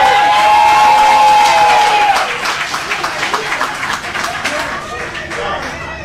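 A crowd at a Black Women's Pay Equity Day celebration cheers and whoops, then claps loudly for Nataki Rhodes, with voices and shouts rising over the applause before it thins into scattered clapping.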